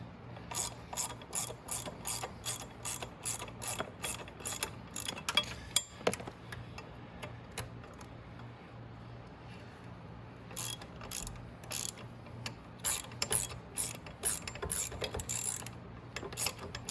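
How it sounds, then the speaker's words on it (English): A ratchet tightens the exhaust nuts onto their studs on a Maddog scooter, making long runs of rapid, even clicking, close and moderately loud, broken by a short pause midway. "when you start tightening them like this, the stud will actually tighten at the same time"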